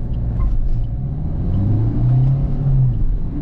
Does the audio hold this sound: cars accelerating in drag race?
yes